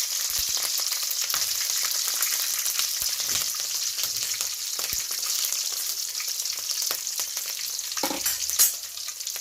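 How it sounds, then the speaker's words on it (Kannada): Curry leaves and green chillies fry in hot oil in a pan, giving a steady loud sizzle with occasional scraping stir sounds and a brief clatter near the end, no voices. "ಕರಿಬೇವು ಹಾಕಿದ ತಕ್ಷಣ ಹಸಿಮೆಣಸಿನಕಾಯಿ ಫ್ರೈ ಆಗಬೇಕು"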